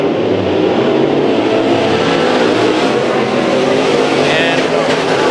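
Race car engines roar loud and steady at Chowchilla Speedway during heat races, a continuous close pass of revving motors with a commentator talking over them.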